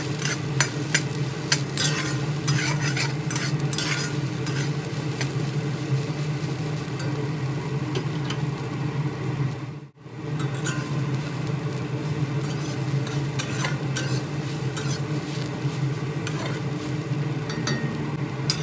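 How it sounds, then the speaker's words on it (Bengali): Soybean chunks fry in oil in a wok with a little salt, a steady close sizzle with scraping stirs and utensil clinks running throughout, broken by a brief silent gap midway. "এই তেলের মধ্যে সয়াবিন দিয়ে সামান্য লবণ সহযোগে ভালোভাবে নেড়ে চেড়ে মিনিট দুয়েক সময় ধরে ভেজে তুলে নেব"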